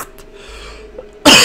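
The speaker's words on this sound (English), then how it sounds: "I didn't mean to cough in the mic like that" A single close cough blasts straight into a microphone near the end, loud and harsh after a quiet stretch, during a commentated Legend of Dragoon gameplay session.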